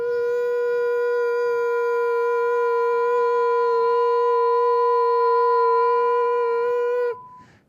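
A 1 kHz sine wave internal test tone generated by an audio mixing board sounds as a constant loud pure whine for roughly seven seconds, then drops away suddenly at the end.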